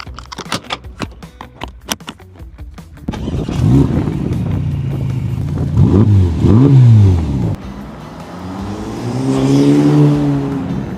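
A Ferrari sports car engine starts with a few sharp clicks, then revs loudly in repeated rising and falling pulls, ending in a sustained roaring rev, close and dominant throughout.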